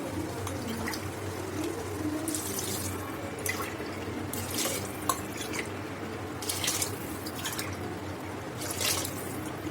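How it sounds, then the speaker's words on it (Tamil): Measured water poured into soaked rice in a pot, a steady splashing trickle with intermittent dripping and sharper bursts of pouring, close by, with no talk. "இப்போ நம்ம தண்ணி அளந்து ஊற்றிக்கலாம்."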